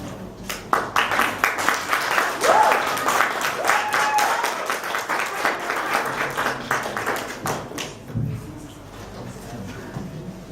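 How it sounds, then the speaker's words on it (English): A crowd applauds a sports team with dense, continuous clapping that swells early, holds steady, then thins out toward the end, with a few voices faintly mixed in. "let's give a round of applause for Team Gauteng"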